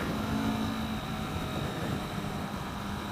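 Engine of a 2015 Kawasaki Vulcan S cruiser motorcycle while riding, a steady smooth drone blended with wind rush, fairly quiet and continuous with no speech.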